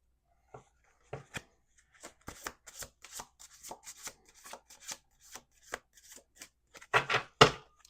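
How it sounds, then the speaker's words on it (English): Tarot cards being shuffled in bursts of crisp riffling and slapping, sparse at first and growing louder toward the end, with no voices. "Last shuffle."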